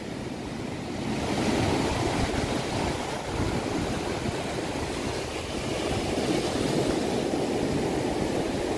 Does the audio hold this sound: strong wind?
yes